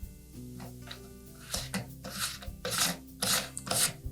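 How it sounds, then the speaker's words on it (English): A flat file rasps against a plastic dishwasher seal-kit part in short repeated strokes, a scratchy rhythmic rubbing that grows louder toward the end. "Again, we'll use our flat file."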